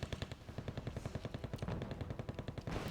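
Rapid, rhythmic bursts of gunfire in the Wargame Red Dragon battle game, close and loud, with steady machine-gun-like pulses running the whole way with no talking.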